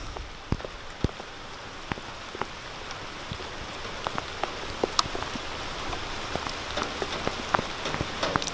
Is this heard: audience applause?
no